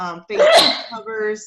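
A single sharp sneeze bursts out between stretches of a woman's speech during a classroom-style presentation, loud and close.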